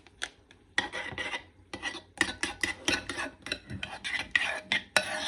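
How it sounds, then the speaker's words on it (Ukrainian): Spoon stirring a chicken fricassee sauce made with sour cream, with quick scraping strokes and soft clinks against the pan in close, irregular bursts. "Все і перемішати і весь соус."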